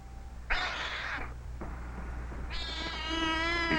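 A cat gives two loud, close meows in quick succession, then a longer, drawn-out wavering meow, each cry standing out clearly against a quiet background.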